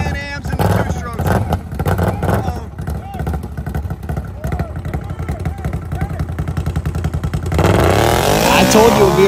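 A nitrous-boosted 1200cc Can-Am quad roars loudly down a dirt drag strip, its engine note climbing and thumping, with a harsher surge near the end, under crowd noise and nearby talk.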